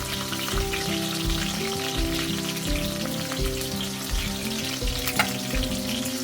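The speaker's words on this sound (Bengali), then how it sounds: "তেল গরম হয়ে গেছে, এবার আমি রসুন কুচি দিয়ে দিলাম। তারপর দিলাম আদা কুচি" Chopped garlic and ginger fry in hot oil for chili chicken, a loud dense continuous sizzle close by with faint clinks, no voices.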